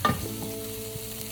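Celery, onions, caraway seeds and garlic cooking over low heat in a pan, a soft steady sizzle with a louder stirring scrape at the start, continuing alone without talk.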